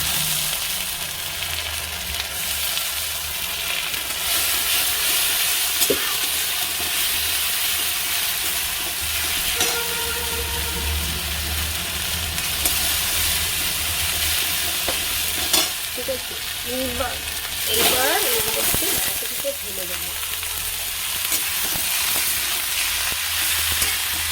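Ginger paste frying and being stirred in a hot pan in a home kitchen, a steady broadband sizzle running throughout with occasional scraping clicks of the spatula, close and fairly loud, no voices.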